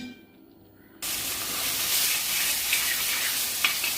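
Chopped dates dropped into hot melted ghee in an uruli, a sudden loud sizzle bursting in after a second of quiet and holding as a steady, close frying hiss with faint pops.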